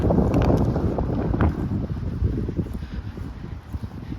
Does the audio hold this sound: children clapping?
no